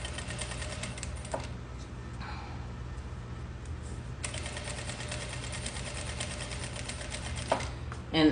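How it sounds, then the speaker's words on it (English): A sewing machine stitches satin fabric at a 2 millimeter stitch length, running as a steady, quiet, rapid ticking hum throughout, close and alone. "Make sure not to sew over your pins,"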